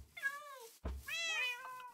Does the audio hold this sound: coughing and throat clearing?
no